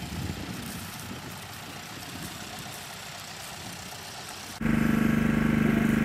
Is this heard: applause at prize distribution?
no